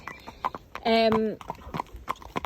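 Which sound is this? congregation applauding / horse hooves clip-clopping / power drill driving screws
horse hooves clip-clopping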